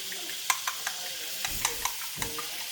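Eggs being beaten with butter in a pan, a utensil clicking and scraping in a few short, quick strokes over a faint sizzle, fairly close and with no talking.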